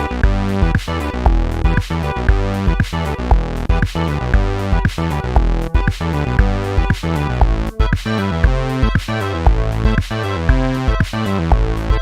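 Retro 8-bit chiptune video game music loop, bright square-wave melody over a punchy regular beat, loud and continuous with no voices.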